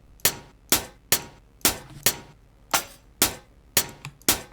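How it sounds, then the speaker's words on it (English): A series of sharp, bright metallic hits, about ten in an uneven rhythm, each ringing briefly before fading, like hi-hat samples played one by one. "Let's choose a couple of more hi-hats here."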